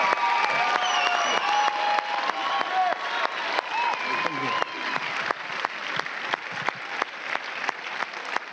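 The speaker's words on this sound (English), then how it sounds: "25 years of applause, please." A large crowd at the Berlin premiere of Bad Boys for Life applauds steadily with scattered whoops and cheers, dense clapping continuing throughout at a lively, sustained level.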